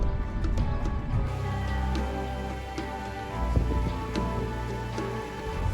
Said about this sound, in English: because it just started raining.